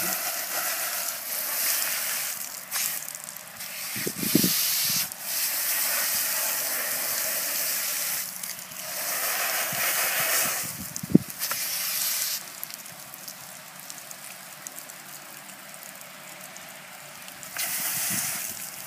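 Water runs steadily over a swimming pool filter cartridge still on its holder as it is rinsed, a continuous hissing spray with brief splashy bursts and small knocks.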